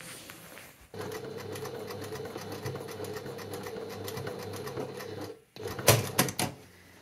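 A sewing machine stitching a lined jacket runs in a steady, fast, close mechanical whir for several seconds, stops briefly, then restarts with a few louder clunks and rattles.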